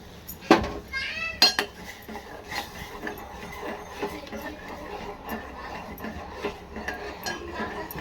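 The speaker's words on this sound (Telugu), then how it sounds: "నేనైతే రవ్వ వేస్తున్నాను." Semolina being added and stirred into boiling water in a pot for a homemade festival prasadam, with a couple of sharp metal clinks of a utensil against the pot followed by quieter scraping and stirring under low background sounds.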